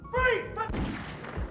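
Gunshot in a Silent Hill game demo, one sharp blast that decays quickly after a short burst of tonal game sound, fairly loud and alone.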